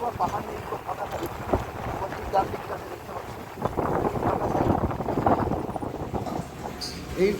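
Strong wind buffets the microphone on an open, exposed mountain road near Darjeeling during a cold motorcycle ride, a steady loud rush with gusts, and a voice talks over it.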